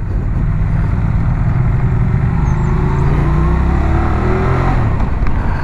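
Triumph motorcycle engine accelerating close by, a loud steady roar with rising pitch as it gains speed, heard alone without any talk.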